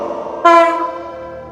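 A loud train horn blares suddenly, holding a steady harmonic tone before fading under a low rumble of a passing train's rail noise.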